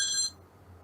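A telephone rings briefly during a call-in to a talk studio: one short electronic ring that cuts off quickly and leaves a faint, quiet hum behind it.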